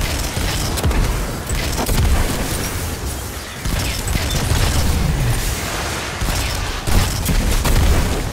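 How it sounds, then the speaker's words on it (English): Sunshot explosions in Destiny 2, played on PC: a dense, continuous barrage of overlapping booms and popping blasts, loud and close, with heavy low rumble and no pauses throughout. "my super big sunshot explosions are just ruining that"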